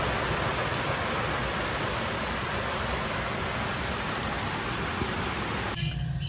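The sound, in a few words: heavy rain falling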